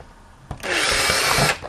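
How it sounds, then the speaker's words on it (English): A power drill boring mounting holes runs in one continuous loud burst of about a second, starting abruptly after a short knock and stopping cleanly, close by with no talk over it. "and then you would drill it"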